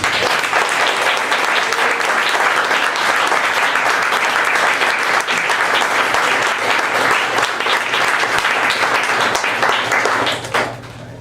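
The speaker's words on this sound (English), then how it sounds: "Can we have a round of applause for our panelists?" A conference audience at a regional drug-policy student gathering gives loud, sustained applause for a panel, dense and steady for about ten seconds before tapering off at the end.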